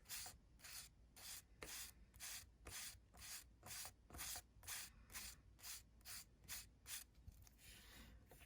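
A sanding stick scrapes across a small model railroad sign in steady, rhythmic back-and-forth strokes, close and fairly quiet, with no voices.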